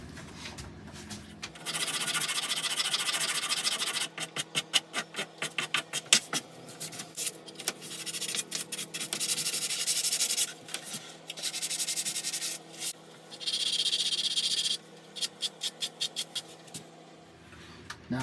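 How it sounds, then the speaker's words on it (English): Hand sanding along the edges of a wooden five-tier corner shelf, with repeated rasping strokes in bursts of fast back-and-forth rubbing, separated by short pauses, close and fairly loud. "I'm just going to give it a little bit of a light sanding over, just take off some of these edges along here"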